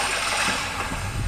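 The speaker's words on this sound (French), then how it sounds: "On a également le bruit des vagues." Recorded ocean wave ambience played through the media system of a Hyundai i30 mild-hybrid car, a steady broadband wash of surf with soft swells, continuous and even for the whole stretch.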